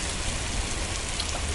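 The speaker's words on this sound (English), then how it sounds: "The rain's coming down pretty good now." Rain pours steadily during a hailstorm, a dense, continuous hiss of drops on surfaces with a low rumbling undertone, close and unbroken, and nobody speaking.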